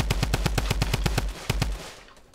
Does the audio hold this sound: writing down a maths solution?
no